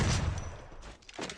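Gunfire in a competitive tournament video game: a dense burst of shots at the start, then scattered quieter pops, heard alone with no talk.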